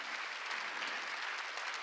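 A church congregation at a Korean Wednesday worship service applauds steadily, a dense wash of clapping holding at even volume throughout.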